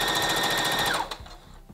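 A sewing machine stitches a knit neck band onto a tee at a steady, rapid rhythm, close and loud, then stops abruptly partway through, leaving a few soft handling clicks.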